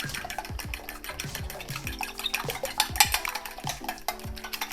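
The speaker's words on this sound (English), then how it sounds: "Let's just give them a little bit of a beat." Six eggs are beaten with a whisk in a bowl, producing a quick, regular series of close tapping strokes and wet clicks against the bowl's sides, sustained and lively, with no voices over it.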